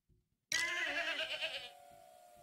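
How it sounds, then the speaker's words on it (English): A goat bleats in the video game Payday 2 Goat Simulator, one loud, close, wavering bleat that starts abruptly after a brief quiet moment and fades over about a second. "Can you guys help me get the goats in here?"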